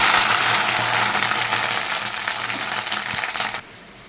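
Grated coconut drops into hot oil already tempered with dried red chilli, bay leaf and whole cumin for chana dal, setting off a loud, steady sizzle and hiss that fades slightly, then cuts down sharply near the end.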